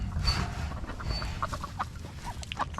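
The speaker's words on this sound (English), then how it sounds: "Finally making a little quacking noise, huh?" Small, soft peeps and calls from baby ducks rise in short bursts over a steady low rumble, fairly close, with no talking.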